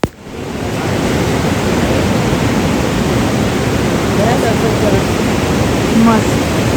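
The Ganga river rushes past at Gangotri in a constant, loud, broadband roar of fast-flowing water, steady throughout and heard alone.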